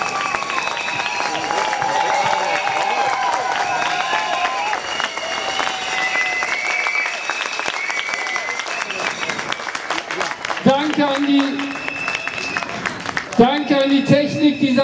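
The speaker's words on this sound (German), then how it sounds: "Ein besonderer Applaus für die vier" A large crowd applauds at an outdoor demonstration in Hannover, sustained clapping and cheering under amplified voices and music, swelling in brief bursts toward the end.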